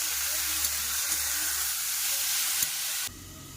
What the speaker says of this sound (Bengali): এই যে কড়াইতে পেঁয়াজ কুচি দিয়েছি আর তেলের মধ্যে পিঠাকে দিয়ে দিলাম